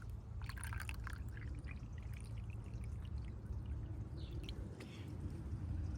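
Liquid hydroponic nutrient pours into a measuring container as a faint, steady trickle over a continuous low background hum, with a few soft drips toward the end.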